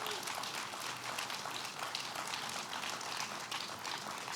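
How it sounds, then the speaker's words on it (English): A crowd applauds at the grand opening of Pier 76 on Manhattan's western shore, a soft, even patter of clapping that holds steady throughout, faint and somewhat distant. "give Marie-Therese Dominguez and Roanne DeStito and Kelly Cummings, Director of Operations, who jump-starts all of these projects, a big round of applause"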